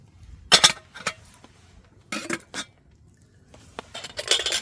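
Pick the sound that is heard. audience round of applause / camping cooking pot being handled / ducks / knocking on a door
camping cooking pot being handled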